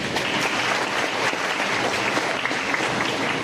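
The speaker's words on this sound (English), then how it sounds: "please give a round of applause to your beloved teachers" Steady, dense applause from an audience at a junior high school recognition ceremony honoring teachers, many hands clapping continuously at an even level throughout with no voices standing out.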